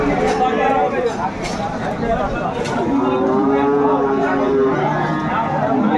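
Dairy cows moo repeatedly and loudly at close range at Aftabganj cattle market in Dinajpur, over a busy crowd, with people talking and chattering throughout.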